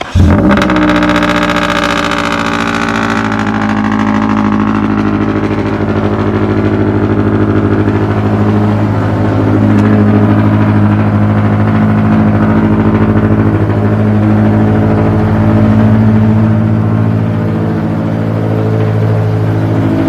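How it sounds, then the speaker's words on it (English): A Scion FR-S fitted with new CNT headers fires up from semi-cold, blasting into a loud, raspy high idle that holds steady and close for the whole stretch. "this is going to be a semi-cold start on my FRS with the new CNT headers"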